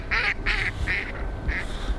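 A duck quacks in a quick run of four nasal calls, close and fairly loud, with steady outdoor background noise underneath.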